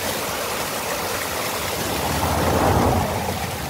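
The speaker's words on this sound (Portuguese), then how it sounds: "tem água pura da montanha descendo para você beber." Pure mountain water rushing down a stream beside a road near Campos do Jordão, a steady, dense hiss of flowing water close by that swells slightly toward the end, with no voices.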